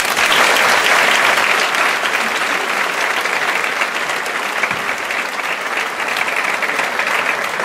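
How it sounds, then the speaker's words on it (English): Sustained applause from a sizable audience at a Board of Education opening meeting, loud and steady throughout with no talking. "give him and our Board of Education another round of applause"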